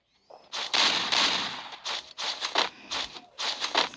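Gunfire rings out in a shooting video game as a run of sharp, loud bursts. Several shots come in fast succession with brief gaps between them.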